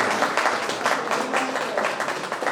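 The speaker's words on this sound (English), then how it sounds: "a big round of applause is required for all of us" At a national seminar on intellectual property rights, the audience breaks into applause, a loud, close wash of many hands clapping with uneven pulses for a couple of seconds.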